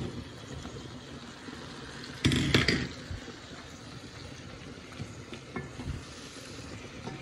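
Radish frying in a pan with a low, steady sizzle, broken by a brief louder burst of stirring and scraping, then a few quieter stirring knocks near the end.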